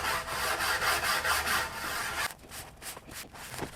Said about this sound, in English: Now I started sanding the bottom here just to clean it up